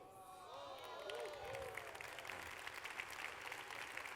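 Conference audience applauding a keynote speaker at a life insurance congress: a faint, sustained patter of clapping with some crowd murmur, building slightly and continuing for several seconds, distant and soft.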